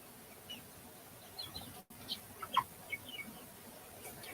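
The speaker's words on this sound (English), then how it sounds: "Hello, the chicken." A chicken clucks in short, faint bursts against a quiet background, several soft calls scattered over a few seconds with a brief dropout midway.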